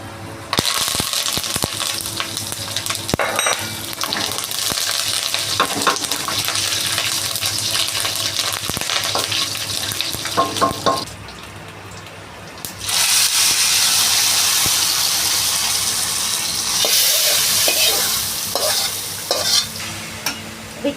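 Cashews and curry leaves fry in hot oil, giving a loud, steady, close crackling sizzle that drops away briefly midway and then resumes at full strength.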